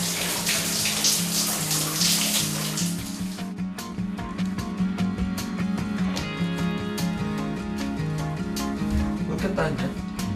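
Industrial painters shower after a shift, and water streams and splashes in a broad hiss for a few seconds. The spray then fades under steady background music.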